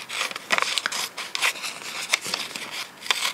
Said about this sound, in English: Now let's just cut and see how this would work.